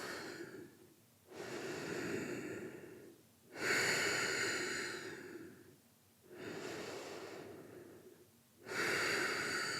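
Slow, deep breathing while holding a yoga pose: long hissing inhales and exhales alternate in a steady rhythm, close and soft, with no talking.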